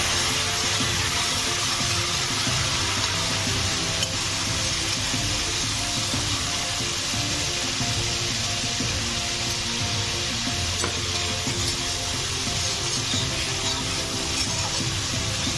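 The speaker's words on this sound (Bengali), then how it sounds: "তার সাথে একটু সামান্য গরম জল দিয়ে মশলাটাকে ভালো করে কষিয়ে নিই।" Spice paste frying with a little hot water in a pan for a thin katla fish curry, a loud, steady sizzle and bubbling that runs unbroken throughout, with faint stirring scrapes.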